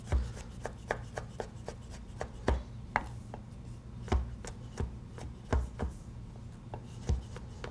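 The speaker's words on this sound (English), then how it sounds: "Stubborn apricot didn't want to cut." A knife chops through dried apricots on a board, sharp percussive cuts in an irregular rhythm, some hard and close, others lighter, with no talking.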